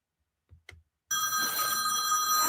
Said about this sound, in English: why is the phone ringing like that? What the hell? Is that a rotodial phone?